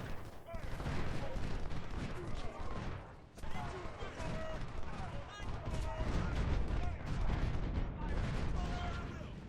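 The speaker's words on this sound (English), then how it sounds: "keep pushing the artillery forward, and this is just academic at this point" Artillery and massed musket fire in the Civil War strategy game Ultimate General, set at the Battle of Stones River: a continuous roar of distant booms and crackling volleys, with a voice talking over it.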